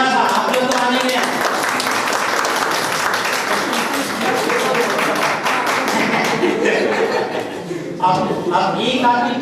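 Audience applause in a school teacher-training session, a sustained patter of many hands clapping at once, with voices and light laughter mixed in and a few louder claps near the end.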